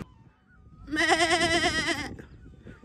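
An insured goat gives a single loud, wavering bleat lasting about a second, close by, with faint outdoor background before and after, near the Melamchi Indrawati river.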